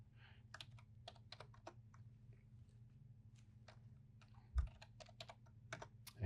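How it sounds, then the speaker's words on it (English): Faint clicks of typing on a computer keyboard come in irregular short bursts over a low steady hum, with a soft thump near the end. "So typing in these forces off of the handout."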